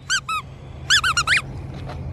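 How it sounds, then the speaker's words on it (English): A squeaky rubber dog toy ball shaped like the Statue of Liberty's head gives short squeaks in bursts, two quick ones followed by a rapid cluster of five, close and clear over a low background hum. "And it squeaks."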